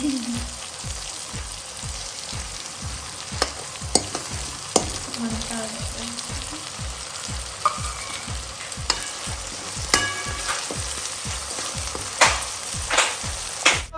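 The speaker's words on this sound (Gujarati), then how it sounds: "હવે ટામેટા એડ થઈ ગયા એટલે આપણે થોડી વાર ટામેટા ને ચડવા દઈશું" Tomatoes sizzle in a hot pan while cooking down for a Gujarati peanut bhajiya curry gravy. A steady close frying crackle runs throughout, punctuated by a regular rhythm of scraping stirs and occasional sharp utensil clicks.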